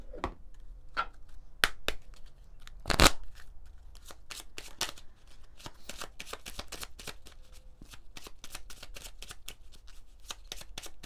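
Oracle cards from the Petit Oracle de la Forêt deck being shuffled by hand, with a run of crisp, close riffling slaps and flicks, one sharp louder snap near the start, then steady quick card taps.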